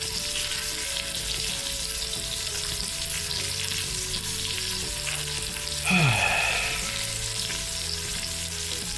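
A flour roux for gumbo sizzles and bubbles steadily in a pot as it is stirred and scraped, with a brief louder scrape partway through.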